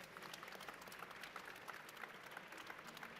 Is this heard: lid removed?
no